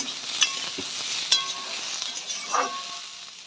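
Pointed gourd fries in a pan while being stirred: a soft continuous sizzle broken by a few sharp utensil scrapes and clinks against the pan.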